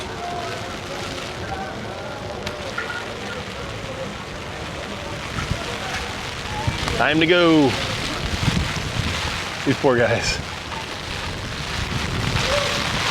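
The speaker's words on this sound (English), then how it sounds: "Ooh, here's some thunder." Heavy rain in a windy thunderstorm at the port of Roatan, a steady hiss of rain with gusts buffeting the microphone while people talk, exclaim and whoop over it.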